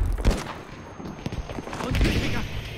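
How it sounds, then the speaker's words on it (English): Gunfire in Battlefield 5, a run of sharp close shots scattered over a dense battlefield din, some louder bursts standing out near the start and middle. "Getting shot from the left."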